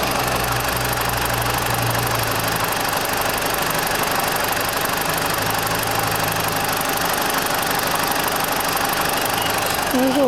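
Idling 2004 BMW 318i engine with a steady low drone and some knocking under a constant broadband whoosh, likely the radiator fan running, loud and close with no talk.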